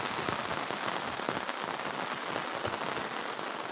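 Steady rain pours down over a village, a dense, even hiss of drops striking surfaces close by, with no voices and no thunder.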